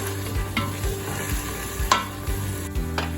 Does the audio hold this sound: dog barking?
no